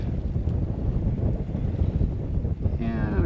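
Wind blowing steadily across a sailboat under way past an island on a cool day, a continuous broadband rush with low rumble, close to the microphone, with no talking.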